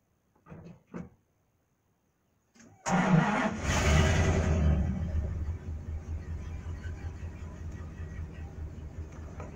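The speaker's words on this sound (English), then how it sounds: "So I guess we'll do a cold start on the tractor." A tractor engine cold-starting, with a couple of brief clunks, then the starter catching and the engine roaring up loud before settling into a steady, rumbling idle close by.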